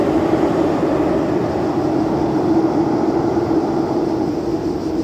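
A steady, loud low rumble fills the whole stretch as a train rolls past close by on a granite bridge, with continuous mechanical roar and no voices.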